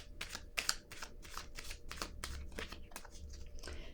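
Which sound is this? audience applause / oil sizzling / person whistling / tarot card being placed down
tarot card being placed down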